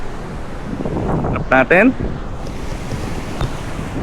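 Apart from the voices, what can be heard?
strong waves on Duli Beach, El Nido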